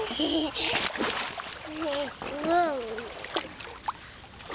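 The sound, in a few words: child splashing while swimming in water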